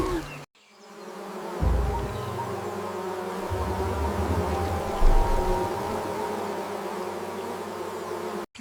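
A swarm of bees buzzes steadily and loudly up close, a dense droning hum that holds with little break from start to finish.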